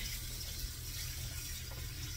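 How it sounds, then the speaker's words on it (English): Liquid drained from canned tomatoes splashes and trickles in a steady, close, moderately loud wash, with no talking. "Drain your liquid, because you don't want it too overly liquidy."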